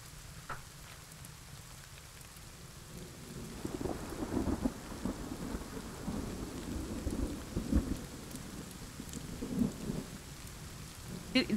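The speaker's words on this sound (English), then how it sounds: "It seems to be always raining." Steady rainfall with low rolling thunder in the video game Kingdom Two Crowns, a constant wash of rain that swells as deeper rumbles roll in from about four seconds on, with no voices.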